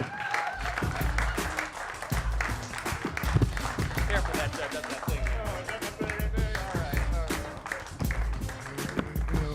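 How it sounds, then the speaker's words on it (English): Comedy club audience applauding a stand-up comic at the end of his set, loud close clapping with cheers, while a few words are spoken over it. "One more big round of applause"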